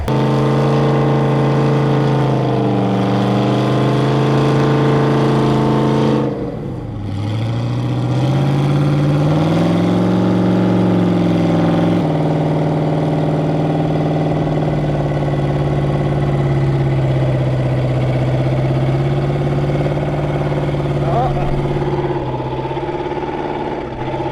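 A car engine idles steadily and loudly for the whole stretch. Its pitch dips briefly around the middle and then recovers into an even drone, with no speech over it.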